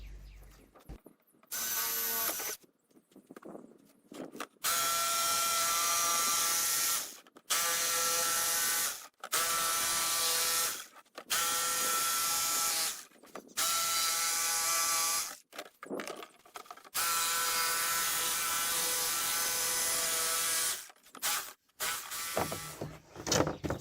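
Power tool cutting a window opening in a cargo trailer door, loud sustained buzzing cuts in repeated bursts of a few seconds, separated by short pauses.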